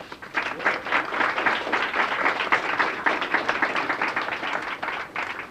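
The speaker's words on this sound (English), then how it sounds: "Let's give Lyndon a hand clap." A crowd applauds steadily at a youth recognition celebration in Boston, a dense wash of many hands clapping at once that holds at an even level for several seconds, fairly close.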